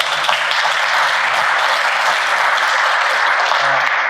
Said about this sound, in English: So let's all give them a round of applause.